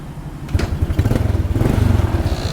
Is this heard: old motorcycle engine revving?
yes